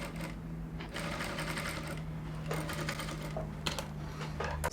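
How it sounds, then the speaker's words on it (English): Sewing machine stitching a corset dress that has plastic boning, a steady mechanical whir with rapid needle rhythm running continuously and close, with brief pauses and clicks. "When you are sewing, be careful so that you don't sew on your bone."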